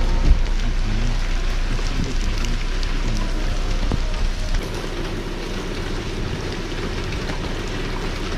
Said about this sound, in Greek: Βρέχει, κοίτα εδώ.